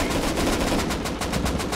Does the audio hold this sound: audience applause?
no